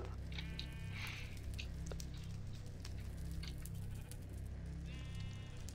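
Sheep bleat in a video game, a few wavering bleats from near and middle distance, one early and another later, over a constant low droning background hum.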